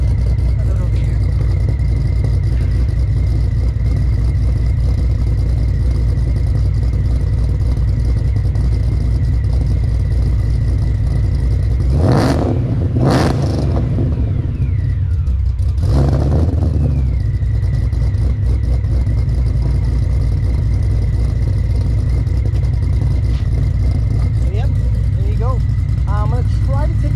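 A 2014 Ford GT500 fitted with a Magnaflow Street series exhaust idles with a deep, steady rumble for most of the stretch, broken midway by a couple of sharp revs that rise and fall quickly.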